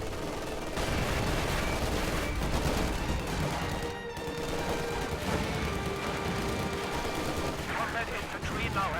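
An MG-42 machine gun rattles off bursts in a World War II strategy game as fighting goes on, rapid gunfire layered with other battle noise and heard beneath a commentator's voice.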